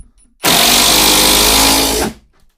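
A Procraft Industrial ID20A impact driver run with the trigger fully pressed, giving a loud, steady high-pitched motor whine that starts sharply, holds for about a second and a half, then spins down.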